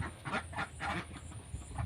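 White ducks quack faintly in a quick series of short nasal calls, several bursts in under two seconds, against low background noise.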